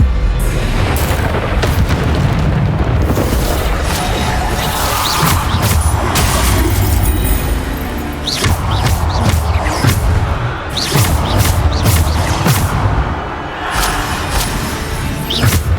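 Bombarda spell blasts from the video game Hogwarts Legacy make loud, dense booming explosions over continuous heavy combat noise, with sharp cracks and crashes throughout.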